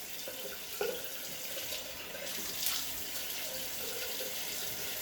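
Water running steadily from a tap into a sink while someone washes their face, a continuous close hiss with small splashes and shifts in the flow, no voices.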